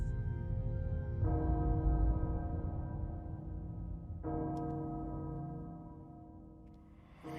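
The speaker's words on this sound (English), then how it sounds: "The bell tolls for us all." A castle bell tolling in a Resident Evil game trailer, two deep resonant strikes several seconds apart, each ringing and slowly fading, fairly quiet and heard alone.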